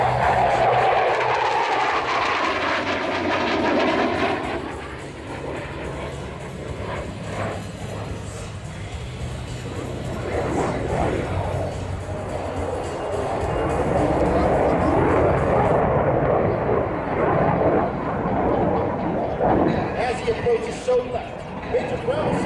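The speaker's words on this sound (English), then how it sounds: "From your right, the F-16 and the knife edge pass." An F-16 fighter jet roars past in a knife-edge flyby at an air show, a loud sustained rushing jet noise that rises and falls over about twenty seconds while an announcer talks over it.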